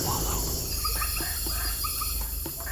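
Frogs call at night from a low-lying wallow where water collects. Short chirping calls repeat at moderate distance over a steady, hissing night-insect drone, with no voices.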